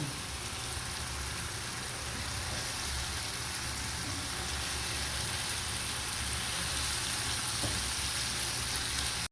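Ginger, garlic and tomato frying in a pan, a steady, close, rain-like sizzle that holds evenly from start to finish with no voices.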